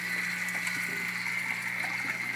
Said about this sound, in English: It takes about 5 to 7 seconds for the Bell Siphon to flush